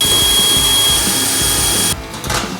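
A power drill bores holes into a workshop ceiling for a roof-mounted winch, a loud steady whine that cuts off abruptly near the end, leaving quieter rattling.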